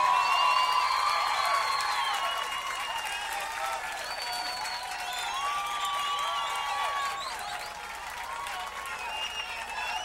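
Audience applause for a guitarist at a live concert, a steady crowd clapping with a few whoops and cheers on top, swelling slightly then easing as the ovation carries on.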